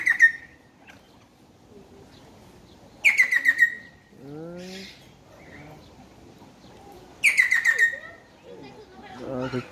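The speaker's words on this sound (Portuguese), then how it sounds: "Ali são os papagaios do Equador." Ecuadorian parrots at Lisbon Zoo give two bursts of sharp, rapid chirping calls several seconds apart, with quieter bird sounds and faint background voices between them.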